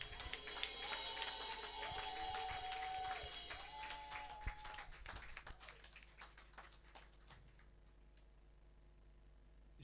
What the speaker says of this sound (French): j'aimerais que nous acclamons pour Jésus-Christ de Nazareth